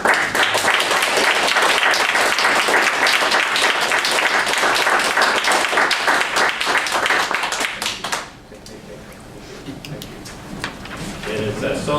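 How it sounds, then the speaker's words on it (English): Loud, dense audience applause at a political press conference for a candidate, sustained for about eight seconds before dropping off abruptly, followed by quieter room noise and a few scattered claps. "I think we should at least give him a good round of applause."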